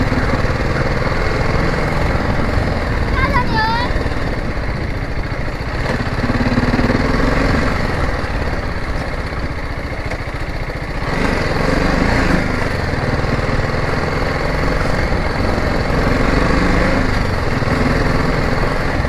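Motorcycle engine running at low speed during an adventure ride in Tarebhir, a steady close drone with a buzzy, mower-like tone and slight surges, with no one speaking.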